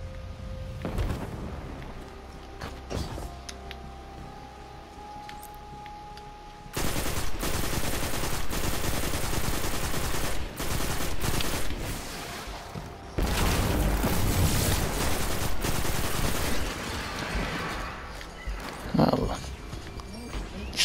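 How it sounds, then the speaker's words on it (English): Rapid bursts of player gunfire in Destiny 2 crackle loud and close, clustered into dense sustained volleys separated by quieter stretches, with a voice speaking over parts of it. "Little test run of my gun."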